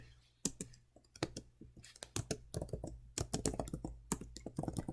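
Fingers type rapidly on a computer keyboard while entering code, close crisp key clicks in uneven bursts and flurries that grow denser toward the end, with no talking.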